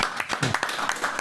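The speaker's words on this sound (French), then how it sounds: "On peut s'applaudir." A small group applauds after a talk with a savate boxing champion, a short burst of rapid clapping heard close and fairly loud.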